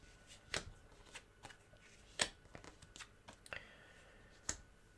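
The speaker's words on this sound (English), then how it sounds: "The cards, they're going to be shuffled again." A deck of playing cards for the board game Ecosfera: Rewilding the World is shuffled at a tabletop, with sharp riffling bursts and soft card flicks recurring irregularly and fairly close, with no talking.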